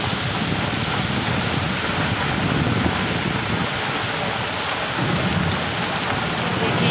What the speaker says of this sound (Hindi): इतना ज़्यादा बारिश है कि क्या बताऊँ मैं